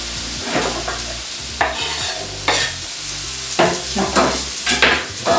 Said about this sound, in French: Nous allons mettre les pommes déjà tranchées à fondre.